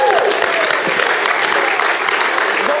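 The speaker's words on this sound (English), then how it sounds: "Give them a big round of applause." A comedy show audience gives a sustained burst of dense, steady clapping that fills the room, with a few voices briefly cheering over it near the start.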